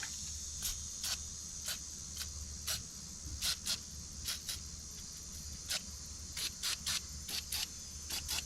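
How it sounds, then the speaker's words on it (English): Short bursts of PB Blaster penetrating oil sprayed onto a sprocket on a John Deere 450C dozer undercarriage, quiet hissing puffs in uneven clusters over a low steady background hum. "Shoot it with some PB Blaster."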